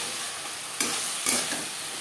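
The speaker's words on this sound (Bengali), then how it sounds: "কাঁচা গন্ধ যাওয়া পর্যন্ত নাড়াচাড়া করে নেব" Ginger and green chilli paste sizzles steadily in hot oil while being stirred for a Bengali katla fish head curry, with two short scraping stirs punctuating the continuous frying hiss.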